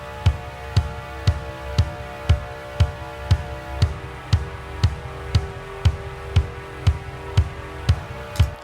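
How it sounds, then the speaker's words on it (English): Synth bass from the Vital wavetable synthesizer plays a sustained sound under a steady, evenly spaced kick pulse, about two hits per second, clear and up front with no speech. "I've got a bass from a plugin called Vital, which is a wavetable synthesizer"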